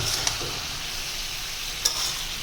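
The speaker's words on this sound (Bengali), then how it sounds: "রান্না হচ্ছে আজকে চিচিঙ্গা আর আলু" Snake gourd and potatoes cook in a pan with a steady low sizzle and hiss throughout, broken by two brief stirring clicks near the start and end.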